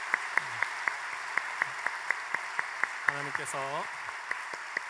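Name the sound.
applause from church congregation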